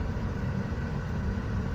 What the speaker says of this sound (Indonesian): Ini mobil sedang sakit ya, ditandai dengan hidupnya check engine dan mesin agak getar gitu ya.